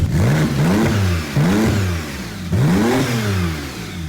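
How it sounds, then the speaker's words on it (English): A Porsche 911 engine, just revived after a wreck, revs hard three times in a row, each rise in pitch followed by a drop back, loud and close. "Just fire it up again. Might have to rev it a couple times."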